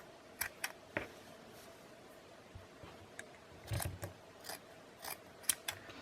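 Scissors snip through lace snippets cut from a snippet roll, a series of close, quiet irregular cuts and clicks with brief pauses between them.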